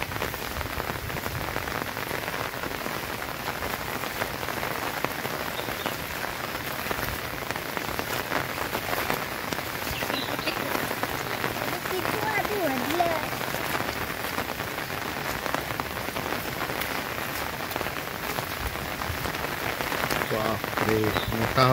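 Heavy monsoon downpour in Konkan, flooding fields and swelling a river, pours down steadily and loudly as a dense, unbroken roar of rain on surfaces throughout.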